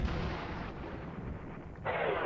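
Artillery guns fire in the wargame Panzer Campaigns Kharkov 43, a heavy booming blast rolling into a rumbling tail, followed by a second sharp burst near the end, with no talking.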